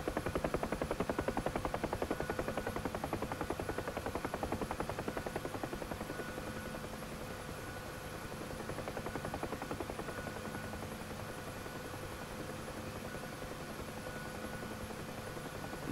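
Helicopter in DCS World flight simulator buffeted by wind gusts in low visibility: a loud, steady rotor drone with dense rhythmic blade chop throughout, slightly easing after the first few seconds, no talk.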